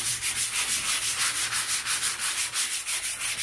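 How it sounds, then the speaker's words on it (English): Hand sanding with 220 grit sandpaper on a patina-treated surface, a close, steady back-and-forth rasp repeating in quick, even strokes with no voices. "I got some 220 grit sandpaper"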